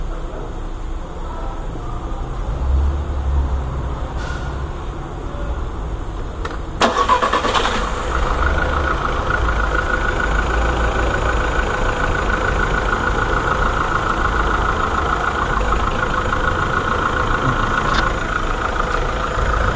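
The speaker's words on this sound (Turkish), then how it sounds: "Şimdi marşa basacağım." A Volkswagen Polo engine cranks and fires after its water pump replacement, then settles into a steady, fairly quiet idle that continues to the end, with no talking.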